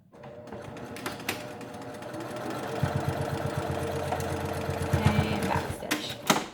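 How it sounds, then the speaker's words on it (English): A sewing machine stitching a fabric face mask, its motor whirring steadily with a rapid rhythmic needle chatter that speeds up in short bursts, close and clear, with faint talk around it. "Make sure your ties are out of the way when you sew."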